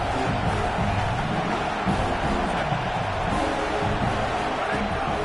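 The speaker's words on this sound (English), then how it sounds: "This crowd, full throat, spreading the eardrums and letting them know it's going to be a long day." A loud stadium crowd at a football game roars continuously in a dense, steady wash of cheering with no breaks, filling the whole stretch at full volume.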